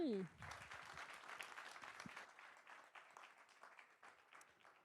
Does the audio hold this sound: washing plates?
no